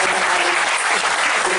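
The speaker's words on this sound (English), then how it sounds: "Please, a big round of applause" Crowd at a ceremony marking a cruise ship's inaugural voyage from Tampa to Havana claps loudly and steadily, a dense burst of applause from many people with no speech over it.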